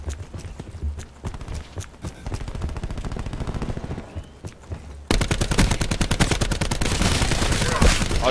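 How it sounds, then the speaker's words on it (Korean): Gunfire in the video game Call of Duty Black Ops 4, scattered sharp shots at first, then a sudden loud stretch of rapid automatic fire, steady and close. "총은 이렇게 쏘는"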